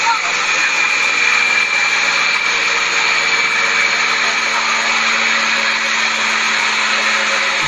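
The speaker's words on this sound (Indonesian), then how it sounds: "di sini ada truk molen buat mengecor jalan" A concrete mixer truck (truk molen) on a road-pouring job runs its engine in a loud, steady, unbroken drone with a constant hum, close by, with no voices.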